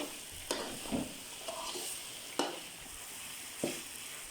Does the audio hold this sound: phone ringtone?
no